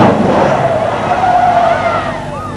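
A rally car skids and spins through a corner at the 1996 Snowline Rally in Ohakune, tyres squealing loudly and close with a rising and falling whine over engine noise.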